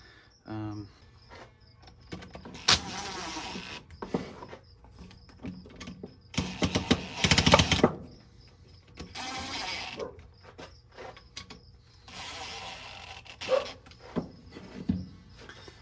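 A cooler motor under repair, tested to check that it still spins: intermittent mechanical whirring and ratcheting bursts, close by, with someone talking between them.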